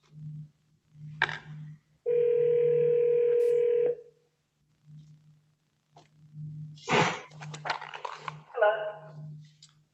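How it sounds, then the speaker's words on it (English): A telephone call rings out as a steady, loud tone lasting about two seconds, with a low background hum throughout and people talking afterward. "I'm going to take a second and call her on the phone"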